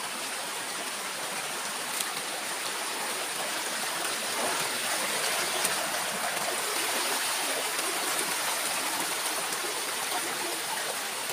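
Steady broadband rush of a river stream flowing past a riverside spot, continuous and fairly close with no talk over it.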